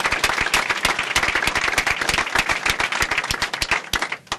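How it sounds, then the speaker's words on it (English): At a Dream Act unity press conference, a modest crowd applauds with crisp, distinct individual claps, loud and close, in a brisk irregular patter that thins out toward the end. "Let's hear a round of applause."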